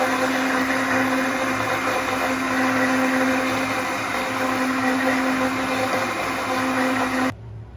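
An electric blender whirs steadily and loudly as it mixes a cold summer sherbet drink with food colouring, running continuously before stopping abruptly near the end.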